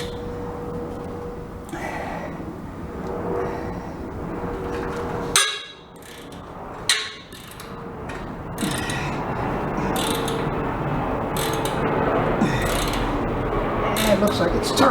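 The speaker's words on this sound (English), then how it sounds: "I left the ratcheting wrench inside here so that I didn't have to do it by hand" A ratcheting wrench tightens a suspension control-arm bolt on an S10 pickup, making repeated close metallic clicks and mechanical turning noise, with a couple of sharp knocks and speech heard alongside.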